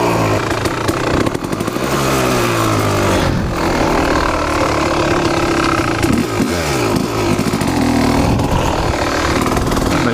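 A Kawasaki KX dirt bike engine fires up and runs with a loud, raspy two-stroke buzz, rising and falling in revs close by and without any talk.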